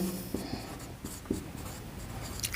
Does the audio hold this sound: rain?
no